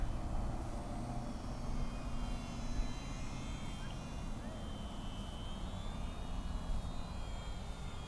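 An RC Sport Cub ready-to-fly model airplane is in flight outdoors, its motor a thin, faint whine drifting overhead against steady wind and background noise.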